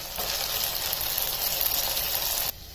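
Marinated okra hits hot frying masala for bhindi tikka masala, bursting into a loud, steady sizzle that holds for a couple of seconds, then drops abruptly to a quieter hiss.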